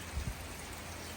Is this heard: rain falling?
yes